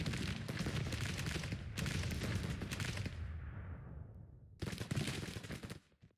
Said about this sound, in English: Now the cannons are starting to fire away with impunity.